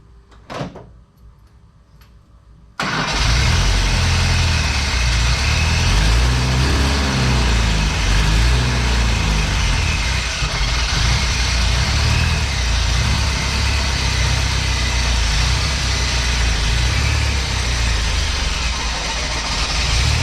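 After a brief thud, the engine of a 1977 bus starts and idles steadily with a low rumbling drone and some rattle, loud and close for the rest.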